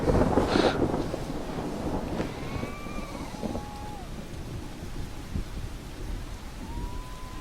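Continuous video game rain hiss with gusty wind noise, a few thin whistling tones drifting through, and a louder burst at the start.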